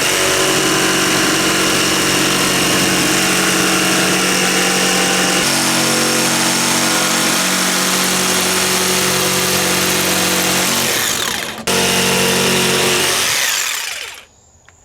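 A jigsaw with its orbital action set to zero cuts a curve through an insulated subfloor panel for a van build, giving a loud, steady, close buzz that breaks off briefly near the end, restarts, then winds down.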